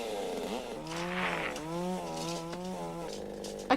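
A chainsaw in the horror film Motel Hell, its engine whining and wavering in pitch as it revs up and down, moderately loud with a sharp bump at the end.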